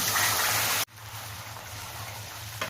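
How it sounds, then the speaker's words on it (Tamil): Water pours into a kadai with ghee and sugar, a steady rushing gush that stops abruptly and leaves a quieter, faint sizzle underneath. "இப்போ இதே கடாயில் இன்னும் கொஞ்சம் நெய், 3/4 கப் சர்க்கரை, 1/4 கப் தண்ணி"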